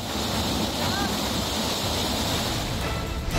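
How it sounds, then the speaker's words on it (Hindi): Floodwater surges through town streets in Karimganj, Assam, producing a loud, steady, broadband rush of moving water with no pauses for the whole stretch. "शहर की सड़क नदियों में तब्दील नजर आ रही है। पानी की लहरें घरों के अंदर घुस गई।"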